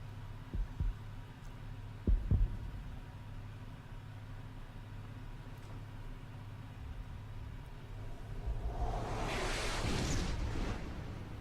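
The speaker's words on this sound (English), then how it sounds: "after you hear this heartbeat behind the door" A low, muffled heartbeat thumps from behind a door in the game Chrono Cross, a few deep pulses over a droning hum, followed by a swelling rumbling surge.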